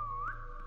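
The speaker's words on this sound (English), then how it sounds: "I'm gonna whistle." A person gives one short, rising whistle, clear and close, with a faint background hum and no talking.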